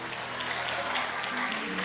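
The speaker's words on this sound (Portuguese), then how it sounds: "Quem pode aplaudir Jesus aí?" Church congregation applauds during a sermon, a soft, steady patter of clapping heard somewhat distant, with faint organ or keyboard tones sustained underneath.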